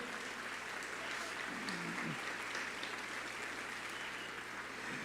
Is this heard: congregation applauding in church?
yes